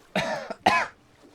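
Two harsh, close coughs in quick succession, the second slightly stronger, then quiet.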